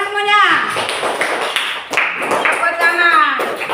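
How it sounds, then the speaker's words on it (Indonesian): Classroom of schoolchildren clapping together during a lesson, a loud, dense patter of hands mixed with children's voices chanting and talking over it. "Ya, tepuk tangan semuanya."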